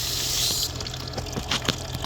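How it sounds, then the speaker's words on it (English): Garden soil around tomato and pepper plants is watered by hand, giving a steady rushing pour that shifts to softer splashes and trickles against the dirt, close and fairly quiet, with no talking. "But I'm watering the dirt too."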